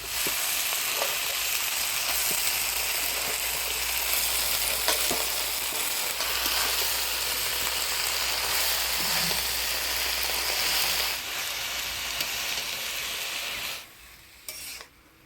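Spinach tossed with turmeric, salt and spices in hot tempered oil, a continuous loud sizzle with stirring scrapes throughout, dropping off sharply near the end.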